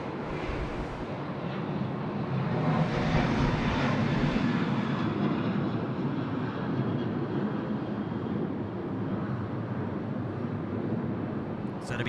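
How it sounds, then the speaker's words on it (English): A Qantas Airbus A330 taxiing out of the apron at Sydney Airport gives a steady, distant jet engine roar that swells slightly and then settles, heard through light wind noise. "And then we've got our Qantas A330 coming out of the apron here."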